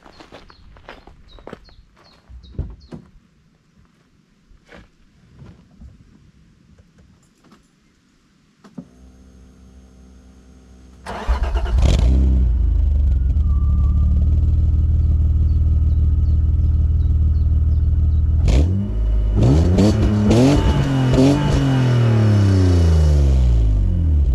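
A BMW E36 heard from the rear: footsteps and light shuffling first, then the engine cranks and fires into a loud idle, followed by several rising revs near the end.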